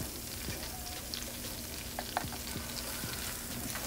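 Shallots and garlic sautéing in butter over medium heat, a steady close sizzle with a few soft stirring scrapes and light pops, no voices over it.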